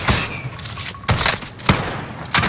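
Call of Duty gunfire crackles in repeated sharp bursts, loud and close, with short quieter gaps between volleys and no voices over it.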